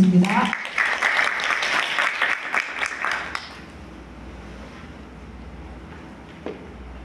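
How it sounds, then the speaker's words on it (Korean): Audience applause at a university innovation forum session rings out loudly for the first three and a half seconds, then stops abruptly, leaving quiet room tone with a faint stray sound near the end. "박수 부탁드리겠습니다"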